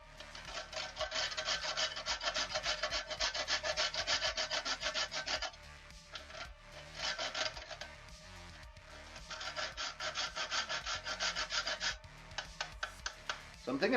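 Whole nutmeg being grated by hand for a quiche Lorraine, with close, quiet, raspy scraping strokes in long rhythmic runs broken by brief pauses, and faint talking underneath.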